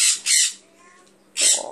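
Pet parrotlets give sharp, shrill squawks close by: two quick calls, a quieter chattering pause, then another piercing squawk.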